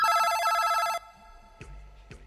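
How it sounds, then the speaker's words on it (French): A telephone on a French radio show gives one loud electronic ring burst that stops abruptly, followed by faint clicks on the line. "Et on a tout de suite au téléphone Suzy"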